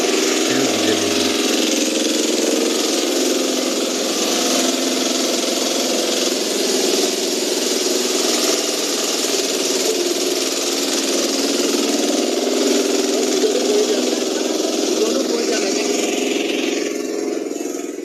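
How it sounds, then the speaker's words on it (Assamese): A 12 HP diesel engine driving a rice mill runs loud and steady at close range, a continuous throbbing drone with mill machinery whirring over it throughout. "এইটো ডিজেল ইঞ্জিন।"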